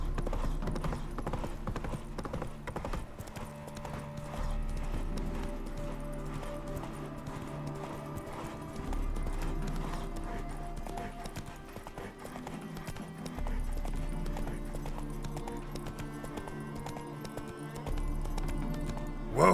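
Roach, the horse from The Witcher 3, gallops with a steady, continuous clip-clop of hooves over a low rumbling backdrop, with no talk.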